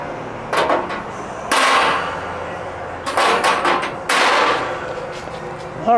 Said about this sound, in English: moving on to step number 9, and that's just installing the grates.